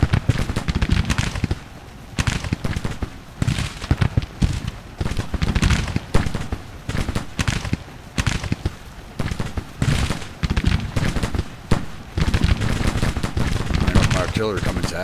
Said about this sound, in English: It is a shooting gallery.